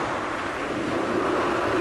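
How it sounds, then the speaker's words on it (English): A constant, faint wash of surging ocean waves rolls on without a break in a cartoon storm at sea, with no voices over it. "Those waves are closing in!"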